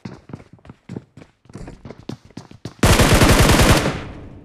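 Rapid automatic gunfire in the BGMI battle royale game, first as scattered sharp bursts, then one long dense loud stream of shots near the end.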